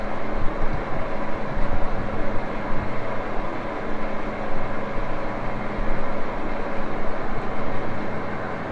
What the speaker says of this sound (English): we are running 13 RPM on the Axelson, and that's what 13 looks like